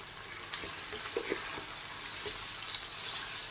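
A mango rice mixture seasoned with turmeric and salt fries in a pan, making a steady close sizzle with a few soft stirring knocks.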